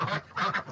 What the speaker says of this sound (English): They are the white ones are Pekin ducks, and then I've got some Anconas in there.